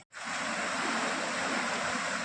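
The Kamla Balan river flows near Jhanjharpur with a steady, broad rushing roar close by, a continuous wash of water noise without voices.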